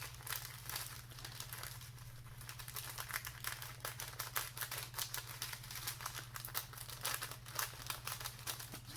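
Contact paper being cut with scissors and ripped apart for a cellophane wing craft, giving a steady stream of close crinkling, tearing rustles over a constant low electrical hum, with no talking.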